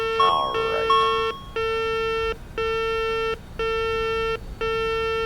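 Repeating cockpit warning beeps sound in an Avro RJ flight simulator during takeoff: a loud, steady electronic tone in long pulses with short gaps, about five in a row, over a low rumble, with a brief chirp near the start.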